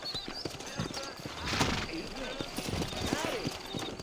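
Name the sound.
horses clip-clopping in video game Red Dead Redemption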